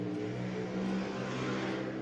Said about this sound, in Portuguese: É uma moto, tá passando em algum lugar aí.